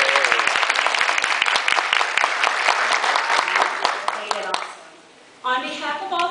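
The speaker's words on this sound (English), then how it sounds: "one more round of applause." Applause at a preschool Mother's Day Out graduation ceremony: a dense, steady patter of many hands clapping nearby for several seconds, thinning out before a voice begins speaking.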